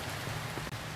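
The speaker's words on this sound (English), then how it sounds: "I especially like the rain noise in the background." Steady rain patters softly in the background of a video game, a continuous, even hiss with no voices over it.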